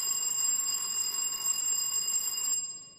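An electric buzzer-style answer bell on a school quiz contest stage rings in one sustained, shrill metallic tone for about two and a half seconds before cutting off, loud and alone with no voices.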